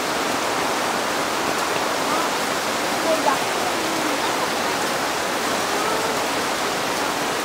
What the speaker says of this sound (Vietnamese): Mưa trên núi rất là lớn.